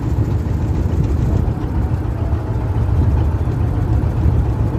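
A trawler's engine drones steadily on open water at Chandpur, a loud continuous low rumble with no breaks, wind and water wash mixed in.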